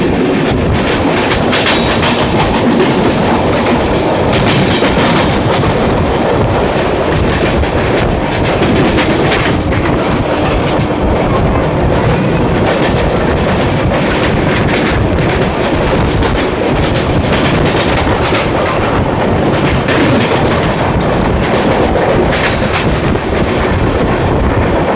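An Amrit Bharat Express train runs steadily on rails, with a continuous loud rumble, rhythmic clickety-clack of wheels over joints and wind buffeting the microphone throughout.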